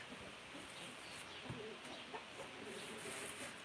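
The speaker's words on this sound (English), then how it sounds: "Now these are the 2 nesting hens" Two nesting hens cluck softly inside a farm barn in rural South Dakota, scattered low clucks over a quiet background with no talking.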